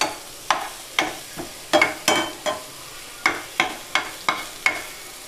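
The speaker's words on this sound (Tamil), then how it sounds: "நெய் காஞ்சனே நம்ம வெட்டி வச்சுருக்கிற வெங்காயத்தை போட்டுக்கலாம்" Chopped onions frying in hot ghee in a pan, with a dozen sharp, evenly spaced scrape-and-clack strokes of a spatula over a faint sizzle, close and clear with no voices.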